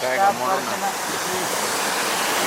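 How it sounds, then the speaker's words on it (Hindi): Meltwater rushing out from under a melting glacier near Babusar Top, a steady close broadband gush of flowing water, with a voice briefly talking over the start. "देखिए, ये माशाल्लाह इसके नीचे से जो पानी आ रहा है"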